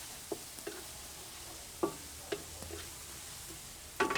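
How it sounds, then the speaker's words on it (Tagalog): Mixed vegetables tossed into hot chicken oil, a soft continuous sizzle broken by several sharp clacks and scrapes of stirring, with a louder burst of clatter at the end. "Bago uminit na matindi, lagay na natin ang ating pinaghalo-halong gulay."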